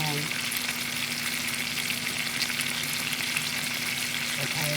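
Onions and garlic fry in a pan while being stirred, giving a steady, dense sizzle that stays even throughout, with no talking over it.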